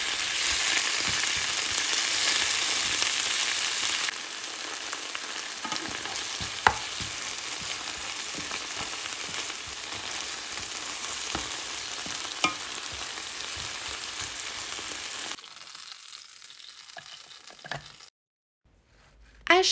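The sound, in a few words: fresh spinach cooking in a pan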